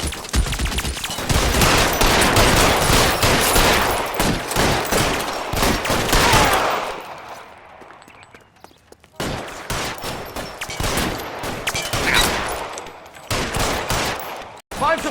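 Heavy gunfire in a shootout in the video game L.A. Noire Remastered, dense loud bursts of rapid shots fading into a brief lull and then resuming, close and relentless.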